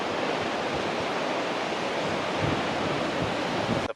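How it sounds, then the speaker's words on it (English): Ocean waves crash against rocks along the Great Ocean Road coastline, a dense, steady roar of surf and spray that stays loud and unbroken throughout. "Ocean waves crashing against the rocks."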